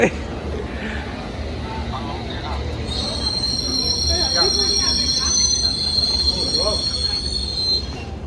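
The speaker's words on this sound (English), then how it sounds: "This is the District Line train to Richmond." A London Underground District Line train rumbles along with steady track noise and high-pitched wheel squeal, while people talk nearby.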